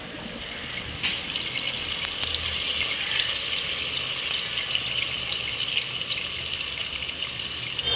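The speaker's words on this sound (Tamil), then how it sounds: "நல்லா புளியெல்லாம் கரைச்சி சூப்பராக ஊற்றியாச்சு." Dissolved tamarind water pours into an anchovy fish curry in a home kitchen, a steady, loud, hissing splash of liquid that runs unbroken for several seconds.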